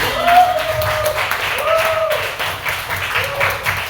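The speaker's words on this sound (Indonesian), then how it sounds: "beri tepuk tangan dulu untuk Kak Rani dan Kak Rea." An audience at a psychology research session applauds two presenters with moderate clapping, while a voice with a rising, drawn-out tone sounds over the applause at intervals.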